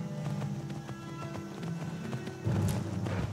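Horse hooves clip-clopping in a steady rhythm while riding in the video game Skyrim, with game ambience under it and a louder burst of action near the end.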